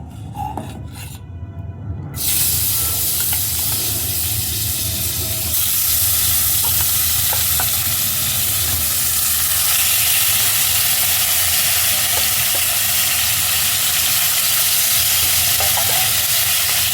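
Fish sizzling in a frying pan, a steady broadband hiss that swells after a short quieter opening and carries on evenly and close by for the rest of the time, with no voices.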